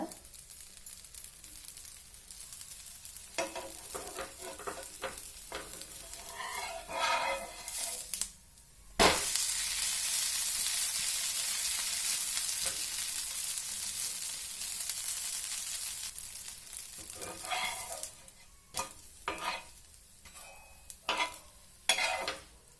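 Millet dosa batter cooking in oil on a hot pan: a steady sizzle with scraping and stirring, then a sudden loud burst of hissing that holds for several seconds before easing into quieter sizzling and a few sharp scrapes.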